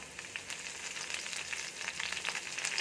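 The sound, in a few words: thinly sliced shallots and curry leaves frying in oil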